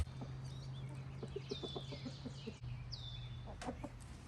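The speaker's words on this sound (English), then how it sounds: "Get out of there, chickens." Backyard chickens cluck and chatter close by in short, repeated bursts over a steady low hum, with a couple of higher squawks.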